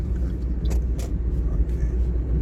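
A car accelerates on a city street in Kaunas during a driving lesson, with a steady, loud low engine rumble and road noise filling the cabin and barely changing throughout.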